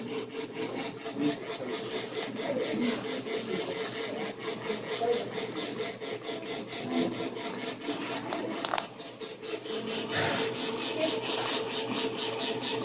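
An electric stand mixer whisks biscotti dough on speed 3, giving a steady mechanical whir with rattling and rubbing that runs unbroken for the whole stretch.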